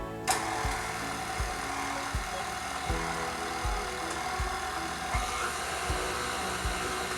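Cream cheese beaten in an electric mixer for no-bake strawberry cheesecake cups, a steady loud motor whir with regular thumping knocks as the beaters turn, heard alone.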